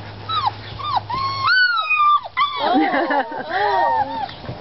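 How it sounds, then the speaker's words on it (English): German shepherd puppy whimpering and yipping in a run of high, rising and falling cries, close and loud, with short pauses between bursts. "Puppy hollers."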